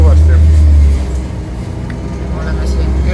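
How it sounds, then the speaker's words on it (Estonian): A bus engine rumbles loudly and continuously from inside the vehicle, deep and droning, with a voice talking over the noise throughout. "loodame, et kuuleb see buss müriseb päris kõvasti."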